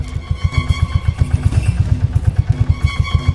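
Boat engine chugging steadily, a close, loud, even run of rhythmic thumps with a rough mechanical clatter and no talk over it.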